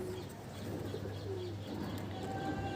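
Pigeons, one of them with an eye ailment, coo faintly and steadily at a distance over a constant background hum, with no talking.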